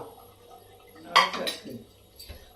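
Rice being served at home for lunch, with dishes and cutlery clinking: a few sharp, close clinks and scrapes over a quiet background, with faint voices.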